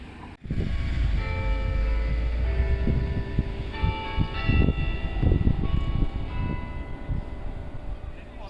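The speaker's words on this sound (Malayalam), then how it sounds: "പള്ളിയിൽ ഓൾറെഡി മണിയടിച്ച് തുടങ്ങി" Church bells ring from a tall church in an Irish city, steady overlapping tolls with a long ringing hum, heard from behind the building amid street noise and occasional talk.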